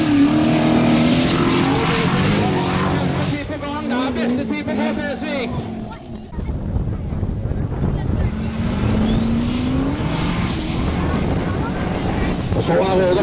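A Formula Offroad car boosted with a truck turbo, around 800 horsepower, roars loudly from the start area of a track in Mysen, Norway. The engine rises and falls through revs with heavy wind buffeting, and a commentator talks over it.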